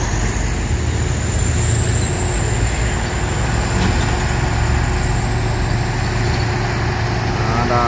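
Heavy engine roar of a bus passing on a steep hill road among trucks, loud and continuous with traffic rumble, and someone talking over it.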